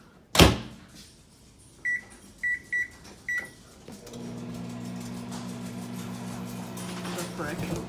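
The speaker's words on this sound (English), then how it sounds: "So, it's supposed to go in the microwave." Microwave oven with a door clunk, four short beeps as the keypad is pressed, then a steady low electrical hum as it starts running, fairly close.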